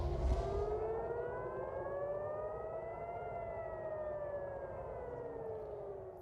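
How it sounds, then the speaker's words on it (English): An air raid siren wails during an Iranian missile attack on Israel, one long rising and falling tone sounding loud and steady from a distance for the whole clip. "Some of the sirens and explosions that have been heard across Israel as Iran launches several waves of retaliatory missiles toward the country"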